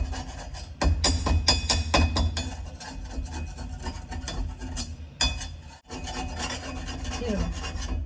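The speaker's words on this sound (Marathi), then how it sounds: "आम्ही याच ठिकाणी स्क्रूड्रायव्हर घेतलाय मोठा." A large screwdriver scrapes and rasps against a blackened, grease-crusted kadhai in steady, close, loud strokes with occasional metallic clinks, a brief pause near the middle, then continued scraping.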